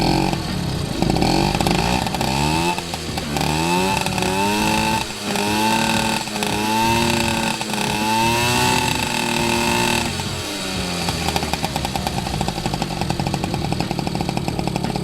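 A 1981 Honda Express NC50 moped's small two-stroke engine sputters to life after kick-starting and keeps running with a buzzy, rattling drone, its pitch rising and falling as the throttle changes.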